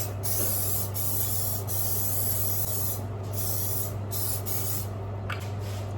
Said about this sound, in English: You can get some olive oil. And just give it a spray right on top of it.